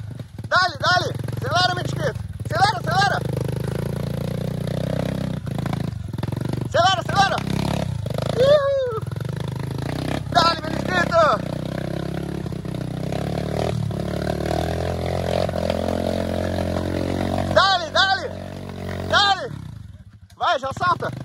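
Motorcycles climbing a steep dirt trail in rough terrain, one of them a Honda CG, engines revving and straining in a continuous loud drone with surges, while people shout encouragement over it throughout.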